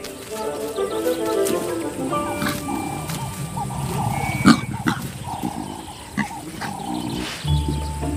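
Deep, rumbling growls from a big cat, rising into a louder snarl midway, with other animal calls faintly in the background.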